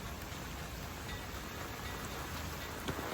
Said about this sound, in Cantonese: 依家啲雨勢又開始好大啊，未停過啊